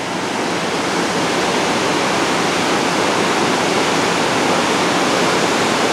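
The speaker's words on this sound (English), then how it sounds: "There's a good rapid right up there." River rapids rushing in a steady, loud broadband roar of churning water, constant and unbroken throughout, heard close with no voices.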